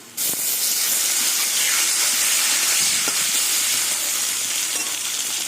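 Tomatoes hit hot oil with browned onions in a pan for a katla fish and eggplant curry, giving a loud, steady, close sizzle and hiss with faint stirring clicks.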